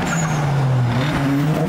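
A muscle car leaving a car show does a burnout, its engine revving loudly and steadily as the tires squeal continuously, close and dominant throughout.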